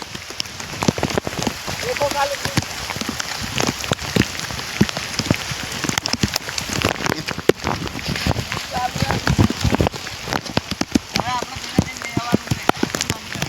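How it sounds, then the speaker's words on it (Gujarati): Heavy rain pattering densely on a hard surface nearby, constant and loud, with brief voices now and then underneath. "વરસાદ ફૂલ ચાલુ."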